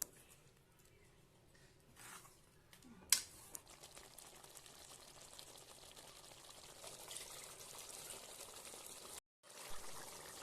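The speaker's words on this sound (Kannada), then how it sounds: "ಈಗ ಚೆನ್ನಾಗಿ ಕುದೀತಾ ಇದೆ" Chicken curry with ground masala gravy bubbling in a pot, a steady soft simmering hiss with faint gurgles and one sharp clink near the start, continuous and fairly quiet with a brief dropout near the end.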